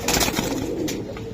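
A pigeon at a bird market gives a short, throaty coo, near and moderately loud over busy crowd noise.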